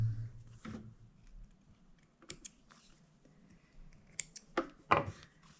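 Small scissors snipping thread tails while sewing a Waldorf doll, a few quiet sharp snips and clicks close by in a calm room.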